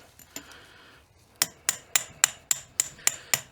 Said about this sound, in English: Continuing with the tappage here.